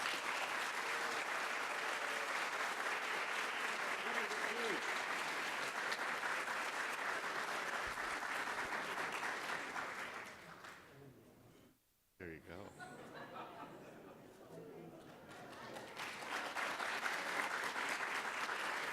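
Applause from an awards ceremony audience honouring a college colleague: sustained clapping for about ten seconds, briefly cut off, then resuming more quietly and swelling again, with some chatter and laughter mixed in.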